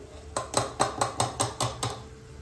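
Cooked vegetables for pav bhaji are mashed in a pot, producing about eight evenly spaced metallic thumps and clinks of the masher against the pan, close and moderately loud, with no talking.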